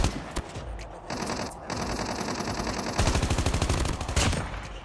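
Rapid automatic gunfire in Call of Duty Mobile battle royale, dense bursts of close, loud shots with a steady fast rhythm, the heaviest run in the last two seconds, no talking.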